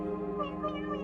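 A cat meows in The Stanley Parable game: a single drawn-out, tonal meow that wavers in pitch, fairly loud and close.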